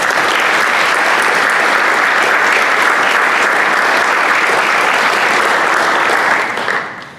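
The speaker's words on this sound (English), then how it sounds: "giving Ryan and every single member of our law enforcement community a round of applause" Sustained audience applause at a Rotary meeting, honoring law enforcement, steady and dense for about six seconds before tapering off at the end; no voices stand out.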